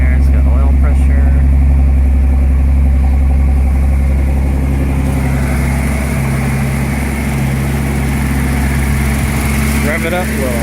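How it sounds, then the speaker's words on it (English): A 1976 Datsun 280Z engine idles at a fast, steady warm-up speed, a loud continuous hum close by with a slight change in pitch midway, and faint speech-like sounds mixed in. "It's idle's kind of high because it's trying to warm up."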